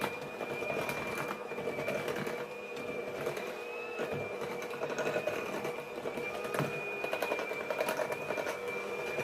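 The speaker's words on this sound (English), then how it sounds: "I got this little hand mixer." Small electric hand mixer beating flour for unleavened bread, a steady whirring motor whine throughout with faint rattles of the beaters against the bowl.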